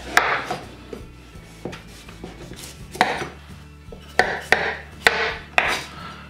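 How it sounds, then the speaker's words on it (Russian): A knife scrapes and cuts repeatedly, peeling the skin from a pumpkin on a board, irregular short strokes with crisp clicks, close and clear with no talking. "И теперь очистим ее от шкурки."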